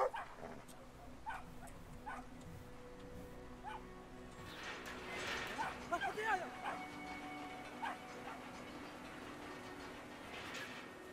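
A big chow chow dog barks and yips in the video game Brothers: A Tale of Two Sons, with a cluster of barks in the middle over a background hum while a person talks.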